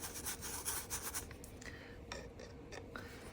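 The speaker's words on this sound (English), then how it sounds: "I just scrub and scrub with my brushes" Paint brushes scrubbed hard against a surface in quick, rhythmic rubbing strokes, close and fairly soft, fading into scattered lighter scratches.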